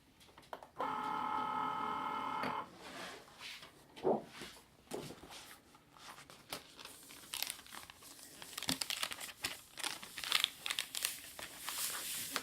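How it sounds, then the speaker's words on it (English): Cricut cutting machine making a double pass through thick shimmer paper, a steady whirring motor buzz at first, then softer scraping and ticking of the blade moving over the sheet. "it knows that if it's a sort of thicker material like this shimmer paper, it knows that it should cut it twice"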